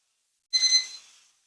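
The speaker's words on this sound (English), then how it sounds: "Machine's beeping at us to make sure that there's somebody here." A short electronic beep from a coffee roaster, with bright, tonal harmonics, a single burst lasting under a second that fades out quickly, heard alone in quiet.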